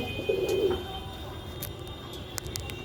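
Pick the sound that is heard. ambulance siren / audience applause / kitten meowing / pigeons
pigeons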